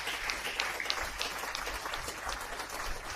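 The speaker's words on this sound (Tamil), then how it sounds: "எல்லா சபையை கைத்தட்டுங்க." A church congregation claps together in steady, dense applause, moderately distant and soft, with sharp individual claps standing out over the crowd.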